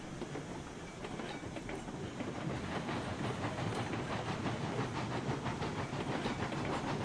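A locomotive hauling a train in the video game RailRoads Online, a steady chuffing and clickety-clack rolling rhythm with hiss, moderately loud and continuous with no talk.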